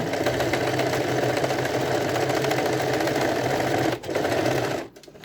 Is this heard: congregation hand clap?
no